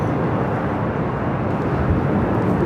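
WestJet airliner, a 737-700 in newer livery, rolling for takeoff on runway 24 left at Los Angeles airport: a steady, broad jet engine roar that holds at an even level throughout.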